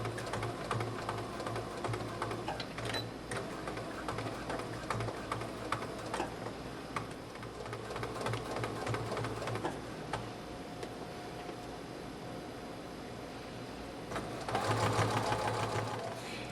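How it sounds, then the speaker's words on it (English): A sewing machine stitches a colonial-style dress bodice in continuous bursts of fast, rattling mechanical ticking, fairly quiet and close, with short pauses and a brief, louder spell near the end. "now I'm going to take it to the machine, and I'm going to stitch it as closely as I can"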